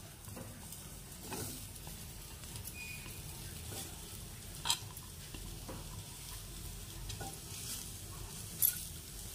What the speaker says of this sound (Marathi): 2 मोठे कांदे घेतले, ते आता मी चांगले भाजून घेत आहे।